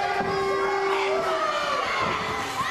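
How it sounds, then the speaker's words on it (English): An enthusiastic crowd at an NECW wrestling event, a loud continuous roar of cheering, shouting and high-pitched yells from many fans close around. "took place in front of a very enthusiastic crowd. Listen to these fans."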